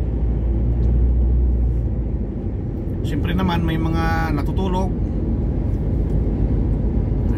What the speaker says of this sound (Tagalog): para ma-minimize yung ingay ng mga andar ng sasakyan